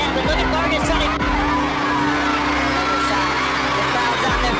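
A boxing crowd on its feet at the Liam Smith fight roars and whoops steadily, a dense wall of cheering with a commentator's voice talking over it throughout.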